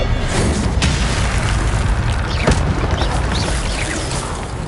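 The Incendio fire spell is cast in Hogwarts Legacy as a loud, booming burst that rolls into a sustained roaring rumble, with light crackling pops riding over the top.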